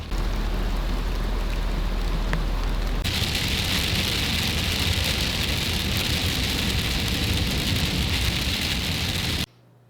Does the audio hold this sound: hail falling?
yes